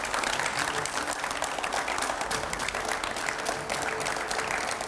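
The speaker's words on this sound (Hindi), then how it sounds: "जोरदार तालियां हो जाए" A TV studio audience applauds for an arriving political guest, sustained dense clapping at an even level throughout.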